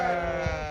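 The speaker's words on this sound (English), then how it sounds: "you can hear the sheep behind me" A sheep bleats once nearby, a short wavering cry over steady low background noise.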